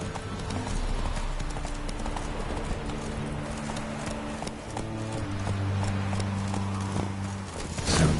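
Roach, a horse in The Witcher 3, gallops with steady, driving hoof clip-clops close by, running continuously over a droning music bed.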